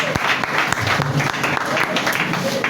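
A church congregation claps and cheers in acclamation, steady loud applause filling the room with voices mixed in.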